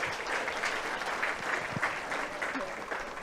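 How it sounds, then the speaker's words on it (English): A crowd at a ladies' senior schools final gives steady clapping applause for the opposing team, sustained throughout at moderate distance. "so round of applause for them"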